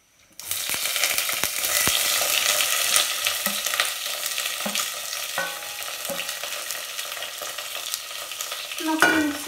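Fenugreek seeds, chopped tomato, onion and garlic frying in hot oil for a fish curry, with a steady loud sizzle and a few scraping spoon strokes while being stirred, no talk.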